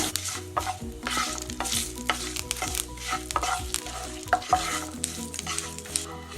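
A spoon stirs fenugreek and chili powder in a sizzling pan of oil for a Kerala fish curry, steady frying hiss under repeated scraping strokes and no voices.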